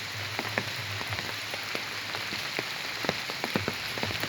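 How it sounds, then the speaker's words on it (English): Light afternoon drizzle falling outdoors near a Kadamba tree, scattered soft raindrop ticks over a steady hiss, gentle and continuous with no talk. "It's a beautiful afternoon with drizzle"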